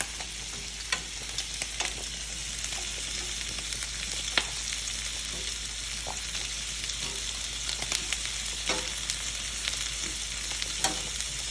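Shrimp with tomatoes and capers sizzle in a pan, a constant fine crackle dotted with sharp pops and spits, close up and uninterrupted by voices.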